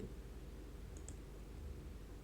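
A computer mouse gives two quick, faint clicks in close succession against a steady low background hum.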